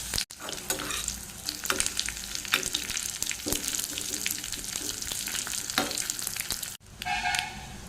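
Steady crackling sizzle of mustard seeds spluttering in hot ghee, with sharp pops scattered throughout and no talking.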